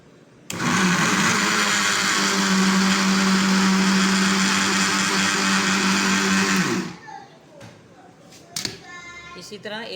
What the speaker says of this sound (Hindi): चीनी को पहले पीस लेना है